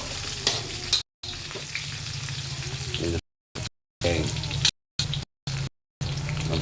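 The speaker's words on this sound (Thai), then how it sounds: "แล้วก็เอา กระเทียมโขลกนะครับ ผัดน้ำมันให้หอม" Pounded garlic stir-frying in hot oil for a wild boar red curry stir-fry, giving a steady sizzle with scraping stirring, broken by several brief gaps of silence.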